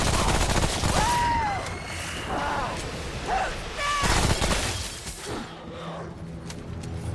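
Submachine gun fire in the game Remnant: From The Ashes, with dense rapid bursts mixed with creature cries and other game effects, loud throughout.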